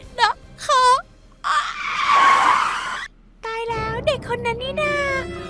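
A car's tires screech in a long skid in a Roblox Brookhaven game, between bursts of animated, high-pitched cartoon voices speaking Thai.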